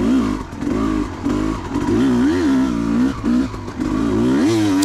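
A 2004 Kawasaki KX250 two-stroke dirt bike ridden through the woods, its engine close and loud, revving up and down in repeated surges with brief throttle dips and some clattering over rough ground.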